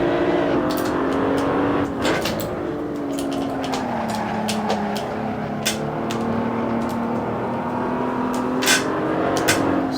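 A race car engine in the Assetto Corsa video game, a loud steady drone that dips in pitch and climbs again under acceleration, with brief clicks of gear shifts and no talking.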